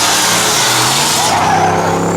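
Pickup trucks at a spectator drag race at the Beech Ridge Day of Destruction, a loud, close engine roar that climbs steadily as one accelerates hard, with a brief tire squeal and no talking.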